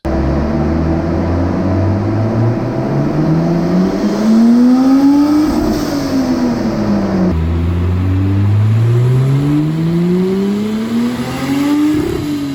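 A turbocharged Mercedes 3.2-litre M104 straight-six revs hard on a dyno in third gear at 0.4 bar boost, climbing steadily toward a 6,000 rpm limit, easing off, then pulling up through the range again, loud and close.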